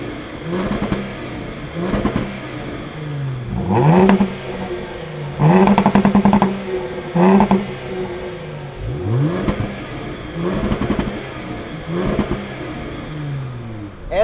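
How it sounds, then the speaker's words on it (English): Two luxury SUVs, a 2018 Jaguar F-Pace S and a Range Rover Velar, both with dual exhausts, taking turns revving their engines in a series of sharp, rising blips with pauses between, close and loud with no talk. "Here's a little rev battle."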